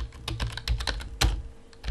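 Quick, uneven taps on a computer keyboard as a plugin name is typed into the Firefox browser, close and crisp clicks with brief pauses, no voices.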